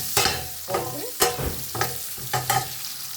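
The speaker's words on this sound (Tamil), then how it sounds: "இப்போ வெங்காயத்தை போடுறோம்." Onions tossed into hot oil sizzle and crackle as a spoon scrapes the pan in several rhythmic strokes, near and steady, with no voices.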